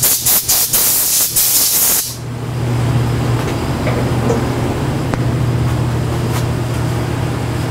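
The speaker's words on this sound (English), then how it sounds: "Get myself an air nozzle here so we can blow that out." A compressed air nozzle blasts a loud, harsh burst of air into a freshly cut chamfer for about two seconds, then a steady hiss and hum of shop noise carries on.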